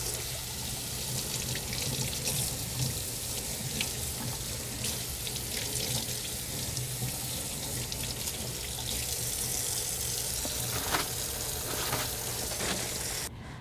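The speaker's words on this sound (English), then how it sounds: "a paper towel to turn the faucet on. And just like hand washing, be sure and wash your gloves very well" Faucet water running steadily into a sink while utility gloves are washed in a dental radiography operatory, a continuous close hiss and splash with small shifts as the gloves move under the stream, and no talking.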